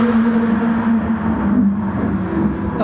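Race cars driving at Monza in GT Sport, a close, loud engine drone holding a steady pitch through a short stretch, with no other sounds over it.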